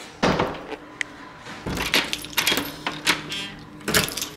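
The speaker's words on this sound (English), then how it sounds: "And can you lock my door?" A door being shut and locked with keys in a university dorm room: jangling key and latch clicks, knocks and thumps in short bursts, close by and fairly loud, with no speech.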